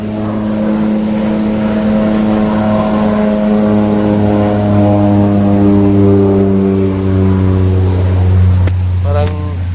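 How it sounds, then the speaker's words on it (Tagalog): A propeller airplane drones overhead outdoors, a loud sustained harmonic hum that holds steady and slowly shifts pitch near the end as it passes. "may aeroplano."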